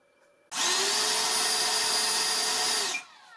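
An Arrows 50mm Hawk electric ducted fan runs at half throttle, starting abruptly into a loud, steady high-pitched whine that holds evenly for about two and a half seconds before cutting off and spinning down.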